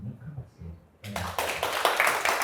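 Applause from an audience welcoming a film director at a Korean talk event, starting abruptly after a man's speech and continuing as a dense, steady clapping that fills the room.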